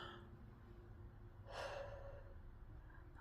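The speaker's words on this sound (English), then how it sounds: "I'm gonna yawn" A single drawn-out yawn-like exhale swells in around the midpoint and tapers off, close and breathy, from a person with no words spoken over it.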